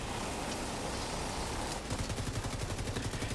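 Rapid automatic gunfire in a shooter video game, starting as a dense noisy wash and then turning into a steady train of distinct shots at a fairly even, quick rhythm, moderately loud with no talk over it.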